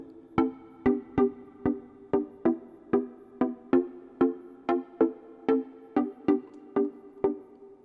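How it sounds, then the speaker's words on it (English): A bright synth pluck repeats in a steady rhythm, about sixteen short notes with quick attacks and ringing harmonic tails, played alone and close. "This is the expanding pluck, right, and it sounds like this by itself."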